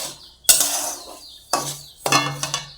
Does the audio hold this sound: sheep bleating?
no